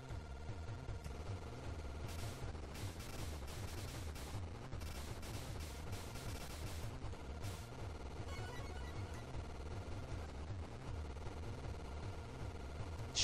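Rapid gunfire and streams of bullets from the shoot-'em-up game Judgement Silversword, dense continuous crackling bursts with layered sharp hits and electronic effects throughout.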